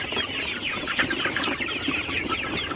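Sonali super hybrid chickens on a farm give a steady chorus of clucking and soft chattering, several birds close by and continuous, with no one talking.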